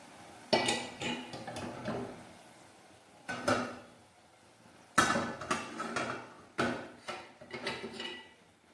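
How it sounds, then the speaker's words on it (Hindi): A pot of zarda rice set onto a metal tawa griddle, a series of sharp metallic clanks and scrapes in several bursts with quiet gaps between, close and fairly loud. "अब मैंने इनको तवे पे रख दिया है"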